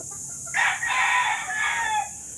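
A rooster crows loudly and clearly, a drawn-out call with a brief break, standing out above a faint steady background hiss.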